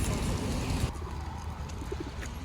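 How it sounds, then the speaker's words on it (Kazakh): Pigeons coo softly somewhere outdoors on a winter evening in Almaty, a few faint low murmurs under steady background hum. "Кептерлер жүр."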